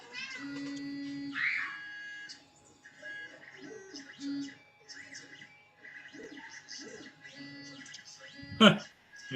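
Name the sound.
cat meowing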